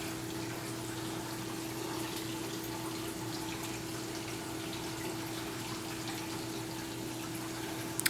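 Steady water flow through a siphon drain line into an aquarium sump, a constant gushing hum with a low pump-like tone, close and unbroken throughout with no talk.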